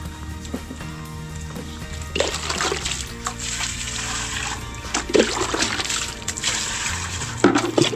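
Water is poured into a container, a running, splashing flow close by that comes in uneven bursts with sloshes and bright splatters, interrupted by brief knocks.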